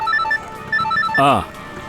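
A telephone ringtone plays as repeated short electronic beeps in a steady pattern, with a brief voice cutting in over it partway through, in a tense police investigation scene.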